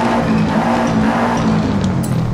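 Car engine from the racing game Forza Horizon 5, an older model, droning steadily with a strong low hum and faint tire noise throughout, loud and constant with no talk.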